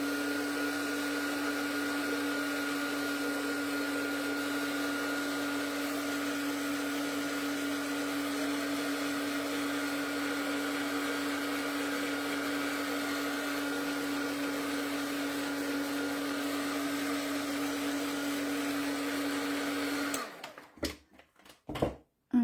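A heat tool drying paint on a craft frame blows a steady, loud whirring hum for about twenty seconds, then cuts off abruptly into a few clicks and handling noises.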